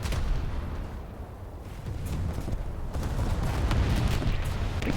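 Naval guns in War Thunder pound a battleship in dense, continuous booming gunfire, loud and rumbling with overlapping blasts and no pauses.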